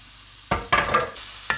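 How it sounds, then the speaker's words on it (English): Onions, jalapenos and garlic dropped into a hot pan: two or three quick bursts of sizzling and scraping stirs, close and fairly loud, with no talking. "now I'm just going to add in my onions, jalapenos, and garlic into this pan"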